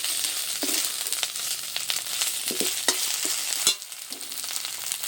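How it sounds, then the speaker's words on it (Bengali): Ginger-garlic spice paste sautés in a pan for a Bengali fish-and-potato curry, giving a steady close sizzle broken by scraping stirs and soft ladle knocks, with no talking. "মশলাটাকে বেশ সুন্দর করে কষিয়ে নিয়েছি"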